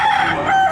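A short, loud burst of rooster crowing rings out at a livestock auction market in Padre Garcia, Batangas, a single strained call close by.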